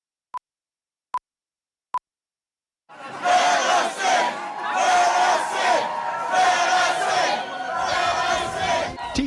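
Three short electronic beeps, a pause, then a large crowd of teachers, firefighters, police officers, nurses and craftsmen at the Ohio State House grounds roars and chants loudly in rhythmic waves of shouting.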